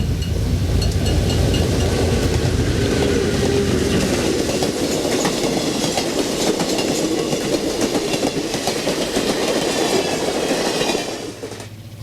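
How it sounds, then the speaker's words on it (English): An Amtrak Hiawatha passenger train rolls past Hoyt Park in November 1971, a loud, continuous rumble of wheels with rhythmic clickety-clack and some squeal, close by, fading slightly at the end. "We catch the Hiawatha at Hoyt Park in November 1971."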